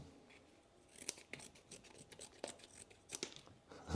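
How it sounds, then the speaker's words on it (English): Small multitool scissors, a Roxon Flex Companion, snip repeatedly, a series of sharp crisp cuts with short pauses between them, close and fairly quiet. "now we have functioning scissors"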